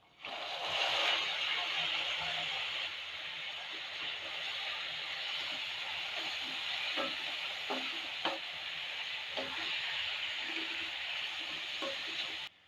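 Chopped tomatoes and green chillies fry in a pan for a Kerala prawn masala, giving a steady, moderately quiet sizzle. Scattered stirring scrapes and clicks of a spoon against the pan run throughout.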